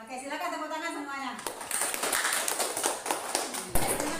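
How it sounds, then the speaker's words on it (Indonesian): A class of pupils claps hands in a classroom, a rapid scatter of sharp claps that follows a spoken voice and carries on fairly loud with a few stronger hits. "silakan tepuk tangan semuanya"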